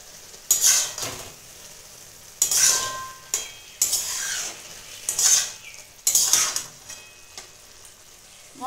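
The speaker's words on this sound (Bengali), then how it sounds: "এখন এতে দিয়ে দিচ্ছি আদা বাটা, দিচ্ছি 1/2 চামচ ধনে গুঁড়ো, দিয়ে আবার আমি নেড়ে নেবো।" Ginger paste and coriander powder are stirred in a pan in four or five separate bursts. Each brings a scraping rush of sizzle and a light clink of a spoon against metal, with quiet gaps between.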